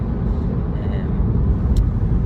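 A Mk7 Volkswagen Golf GTI hatchback engine rumbles low and steady at close range while accelerating, a continuous throaty drone with no clear breaks.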